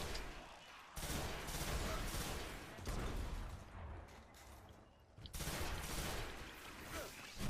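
Rapid gunfire from a campaign-reward gun in Destiny on PS4 comes in long, loud, dense volleys broken by brief pauses.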